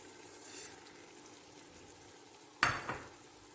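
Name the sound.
spices added to frying tomatoes in a pan for golden pulao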